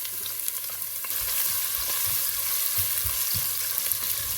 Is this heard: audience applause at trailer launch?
no